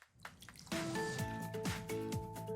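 Apple whiskey poured over cut fruit in a bowl for apple cider sangria, a steady splashing, dripping stream starting partway in and running on close up with no talk.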